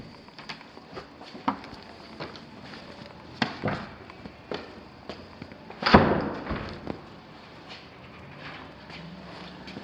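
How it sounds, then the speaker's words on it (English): A sharp thud of a door shutting and locking, with softer clicks and clunks before and after, close by in a quiet room of a newly constructed house. "I'm going to lock this door behind me."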